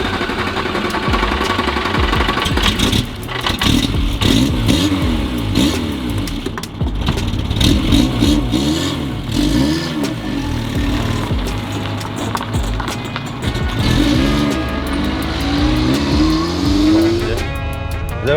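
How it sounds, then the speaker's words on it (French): A Peugeot 205 car engine revs hard and repeatedly, rising and falling in pitch, loud and close, with a final sharp climb near the end. "C'est vraiment le bruit typique de la 205 quoi."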